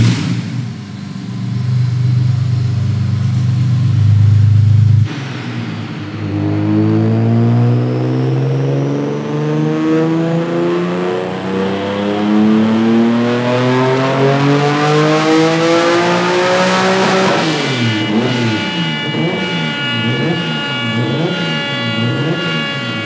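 A supercharged BMW E36 track car engine revs hard on a dynamometer, rising through long sweeping pulls that climb in pitch, then settles into rapid blipping revs near the end, loud and continuous without voices.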